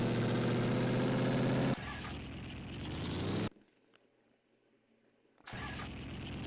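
A car engine hums steadily while driving, a constant mid-pitched drone that changes abruptly partway through, falls to a quiet stretch, then returns at full level.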